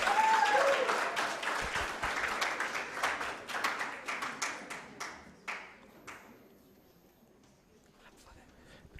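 Applause from a university competition audience as trophy-winning teams walk to the stage, starting full and dense then thinning into scattered separate claps that fade to near silence.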